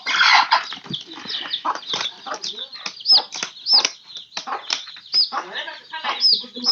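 Chickens cluck and squawk in short repeated bursts at close range, with occasional higher calls and a bit of flapping, mixed with intermittent talk.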